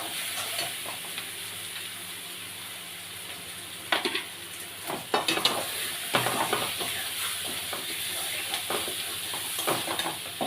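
Parboiled potatoes frying in hot spiced masala in a home kitchen pan, a steady close sizzle with scraping stir strokes growing busier midway, no talking.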